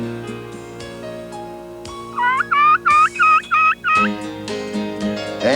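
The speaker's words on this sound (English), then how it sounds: "Rob Keck shows you how to find and call the wild turkey" A wild turkey in spring woods gives a rapid gobble, a loud burst of six quick rattling pulses in the middle, over a steady humming tonal background.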